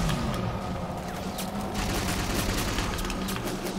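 Sustained weapon fire and explosions from a Big Team Infinity Slayer multiplayer match on Ragnarok in Halo 4 form a dense, continuous wash of battle noise, steady and fairly loud throughout.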